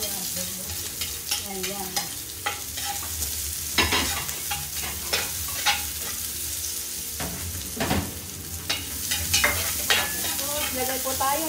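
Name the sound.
onion frying and being stirred in pan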